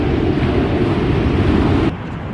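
Ocean waves wash onto a beach in a continuous loud roar with gusty wind buffeting the microphone, easing slightly near the end.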